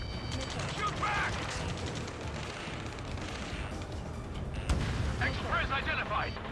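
Gunfire and battle rumble in the Ace Combat video game during a ground firefight, a steady low roar with scattered sharp bursts, heard under shouted voices.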